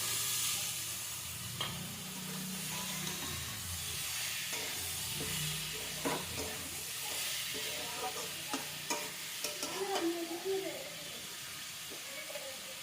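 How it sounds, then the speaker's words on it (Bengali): Chili sizzles steadily in hot oil while a utensil stirs and scrapes the pan, during chicken curry cooking, with a voice faintly present in the background. "তেল দিয়ে দিলাম, লঙ্কাটা দিয়ে দিলাম"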